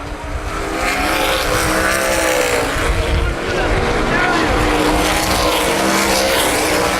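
Sprint cars race at Baer Field Speedway during a 2010 Hoosier Outlaw Sprint Series feature. A loud, continuous engine roar swells and fades as cars pass, while an announcer talks over it throughout.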